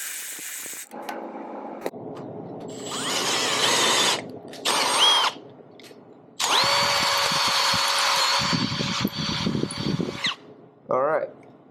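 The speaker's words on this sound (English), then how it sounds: "you do not drill all the way through the engine" A power drill bores into the engine of a vintage 1979 Honda XR80 barn-find motorcycle, in several loud bursts of whining and grinding separated by pauses, with a short squeal near the end.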